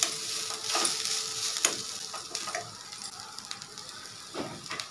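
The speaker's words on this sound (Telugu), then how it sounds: "తగినంత ఉప్పు, మిక్స్ చేసుకోవాలి." Sprouted mixed beans being stirred with salt, soft scraping and clinking mixing strokes with a light crackle, fairly quiet and steady, no speech.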